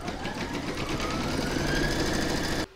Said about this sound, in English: I'm now going to pop my hoop back into my machine and I'm going to stitch round number 4